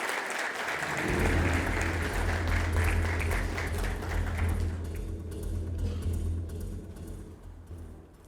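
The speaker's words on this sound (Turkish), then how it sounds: "kocaman bir alkışla Zincir Mağazalar Derneği Yönetim Kurulu Başkanı Serhan Tınaz Tepe'yi açılış konuşması için sahneye alıyoruz" A conference audience at a 2022 retail technology event applauds as the chairman of a chain-store association is welcomed onstage for the opening speech, a sustained crowd clapping over a low steady hum that fades toward the end.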